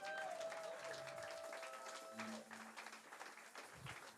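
Church congregation applauding at a Sunday service, a steady wash of clapping sustained throughout with a faint sustained tone ringing early on.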